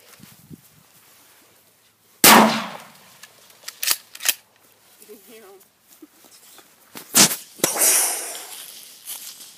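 A handheld shotgun fires outdoors in a sharp, loud blast that stands alone after a quiet start, followed by further bangs and rustling while voices talk nearby.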